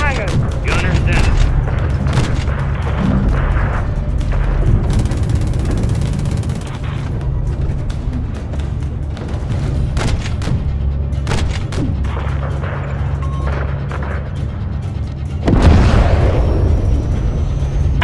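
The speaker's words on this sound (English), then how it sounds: "have your man drop a missile in that hangar" A missile strike levels a hangar in Call of Duty, heard as a heavy rumbling blast beneath ongoing battle noise and radio chatter, with a sharp loud impact surging near the end.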